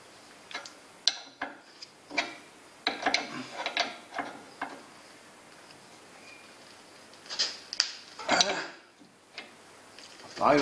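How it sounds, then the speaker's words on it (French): Tightening the lock nut on a Peugeot 504 pickup's steering tie rod: irregular ratcheting clicks and metallic taps in short bursts, close and fairly quiet, with pauses between. "on peut serrer le contre-écrou."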